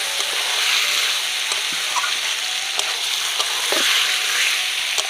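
Kashmiri red chilli powder, coriander powder and salt sizzle in hot oil with chicken as a spatula stirs the pan, a steady close frying hiss broken by occasional scraping strokes.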